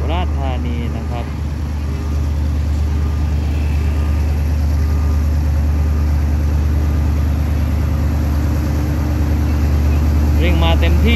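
SRT freight train 721 pulls out of Surat Thani station under full power, a loud, continuous low diesel roar that builds steadily, with someone talking over it throughout.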